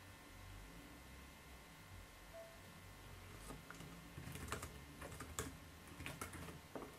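Keys clatter on the keyboard dock of an ASUS Transformer Pad Infinity TF700KL tablet, soft at first and then a quick run of sharp, irregular taps, close by and faint with no talking.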